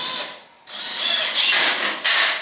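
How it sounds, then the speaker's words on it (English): A power drill drives screws into brackets on a wooden reloading bench, a close, loud whirring motor in a few surging bursts with a short pause early on, no voices over it. "I'm going to pop 2 screws on the inside on both pieces."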